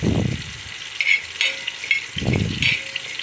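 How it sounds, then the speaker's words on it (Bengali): Mustard seeds and panch phoron sizzle in hot oil for a sweet-sour-spicy mango pickle, with two loud crackling bursts of frying and the light scrape of stirring in between. "সর্ষেও দিয়ে দিলাম পাঁচফোড়নের মধ্যে"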